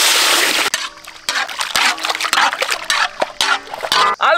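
Water is poured into a pot of chicken liver with turmeric and salt while cooking in a village, a rushing splash followed by sloshing and trickling close by.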